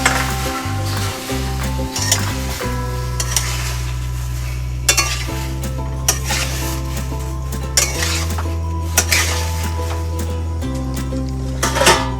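Chopped tomatoes with salt are stirred in a metal kadai, with scraping and clinking of the spoon against the pan over a steady background hum and no talking.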